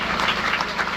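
Loud, dense applause from a crowd honouring the residents of Kotda during a Sindoor yatra welcome event, steady and close throughout the short stretch.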